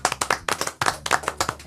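Applause in a radio studio: a short burst of close, uneven hand claps from a few people, sharp and fairly loud, with no talking.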